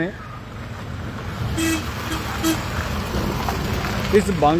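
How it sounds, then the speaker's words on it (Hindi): Steady roadway traffic on the Paonta–Bhangani main road at Bangran, small and large vehicles passing continuously at moderate distance, with a couple of brief horn toots and a voice talking over the noise. "हर समय, हर मिनट पर कोई ना कोई गाड़ी, छोटी गाड़ी, बड़ी गाड़ी निकलती रहती है"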